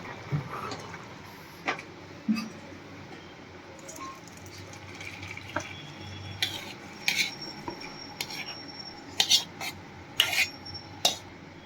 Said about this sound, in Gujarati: હવે આપણે એને એક કાણાવાળા વાસણમાં કાઢી લેશું